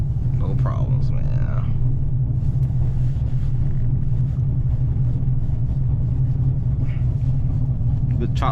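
A supercharged 850hp Camaro ZL1 idles with a choppy, loping rumble that stays deep and steady throughout, heard close from the cabin, with a voice speaking briefly over it.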